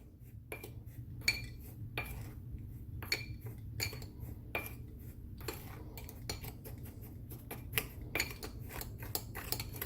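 A utensil stirs dry rib rub herbs and spices in a container, producing quick, rhythmic clinks and scrapes against the sides, close and clear over faint background hum.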